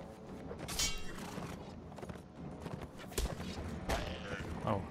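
Horse hooves clip-clop at a gallop in the medieval combat game Mount and Blade: Warband, a steady drumming rhythm under busy battle noise, with a voice talking over it.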